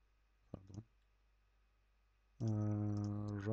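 A few quick typewriter key clicks in the puzzle game Cube Escape: Paradox, a short faint rattle over near silence, followed by a loud sustained tone.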